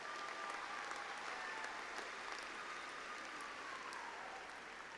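Dense, steady applause from the crowd at Angelo State University's 2016 spring commencement, honoring graduates; sustained, even clapping fills the hall throughout with no break.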